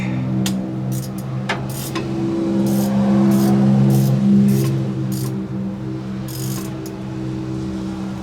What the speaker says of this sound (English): And then we'll give the plug a little snug.